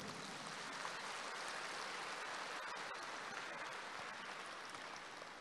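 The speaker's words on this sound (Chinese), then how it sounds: "鼓掌的人不是这么多" Scattered audience applause from a gathering in Jakarta, a steady dense wash of many hands clapping at a distance, fairly quiet and even throughout with no voices.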